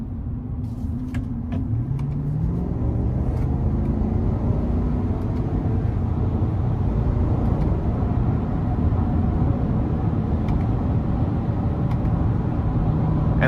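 A 2023 Chevy Silverado 1500 ZR2 with the 6.2 V8 and 10-speed automatic drives steadily, its engine drone rising and dropping through quick, smooth gear changes under continuous road noise.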